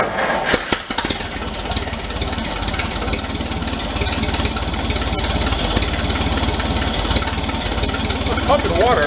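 A stock barn-find 1930 Plymouth rumble seat car engine cranks briefly and catches, then runs steadily with a rough, loud, continuous idle close by, while people talk over it.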